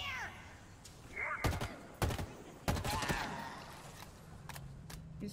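Gunfire in the Halo Infinite campaign, a few separate sharp shots spaced through a quiet stretch, mixed with chirpy alien creature sounds and soft game effects.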